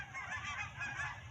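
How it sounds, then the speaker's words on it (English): A flock of geese honking in a brief, lively burst of overlapping calls, slightly distant and fairly faint, with no voices. "Even the geese agree. You hear them?"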